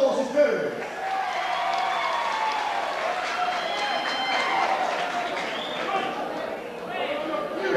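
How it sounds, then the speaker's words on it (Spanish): An audience in a bar in San José de Ocoa applauds a performer with steady, dense clapping mixed with cheering and crowd voices, loud and continuous throughout. "merece el aplauso de todos ustedes"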